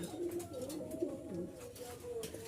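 High-flying Giribaz pigeons coo in low, rolling, repeated phrases close by, with soft overlapping calls and no talking.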